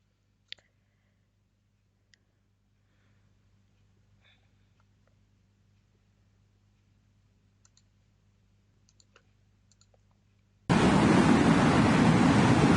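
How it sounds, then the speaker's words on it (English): Wind-driven sand blowing across a desert, a loud steady broadband hiss that bursts in abruptly near the end after a long stretch of near silence with a low hum and scattered faint clicks. "Let's see how the wind can blow sand."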